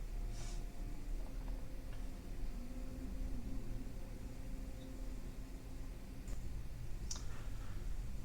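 Mouse clicks while saving and releasing an order in order-entry software: a few soft, sharp clicks scattered over a steady low background hum, fairly close and faint.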